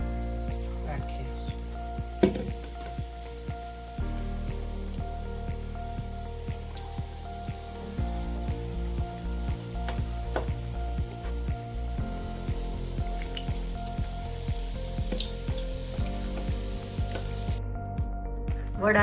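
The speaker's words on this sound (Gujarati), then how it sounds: "તેલ આવી ગયું છે, આપણે હવે એમાં વડા તળીને" Vada, potato fritters for Mumbai-style vada pav, frying in hot oil with a continuous close, rain-like sizzle and scattered sharp pops over a long stretch, with no talk.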